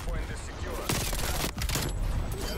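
Gunfire in the multiplayer video game Call of Duty Black Ops Cold War comes as loud, rapid bursts of automatic shots, one after another over a few seconds.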